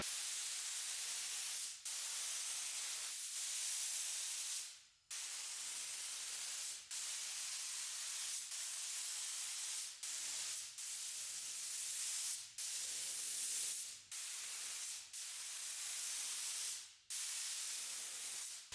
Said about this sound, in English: Ready to spray.